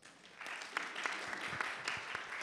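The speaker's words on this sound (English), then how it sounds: "Let's energize this room with a round of applause." A round of applause fills a workshop room at a conference, dense steady clapping from a modest audience heard fairly faint and slightly distant, with no talk over it.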